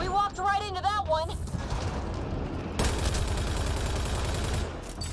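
Gunfire in the Mass Effect: Andromeda sci-fi shooter, a busy stretch of rapid shots and impacts that grows denser partway through, mixed with voices and a musical tone at the start.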